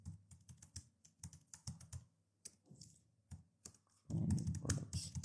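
Rapid typing on a computer keyboard, keys clattering in irregular bursts with brief pauses, then a louder, denser flurry of keystrokes near the end.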